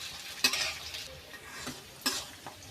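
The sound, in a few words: stirring capsicum frying in a pan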